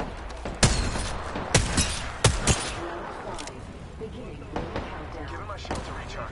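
Video game gunfire in a squad shooter: several sharp, loud shots and blasts spaced irregularly over a few seconds, each with a decaying tail, followed by fainter distant pops, with voices talking throughout.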